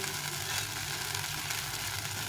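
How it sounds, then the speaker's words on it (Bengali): Chili and spice paste frying in a pan for a fish curry, a steady continuous sizzle with crackling hiss, fairly quiet and even, no talking. "এই লঙ্কাটা দিয়ে আমি মশলাটা কষিয়ে নেব"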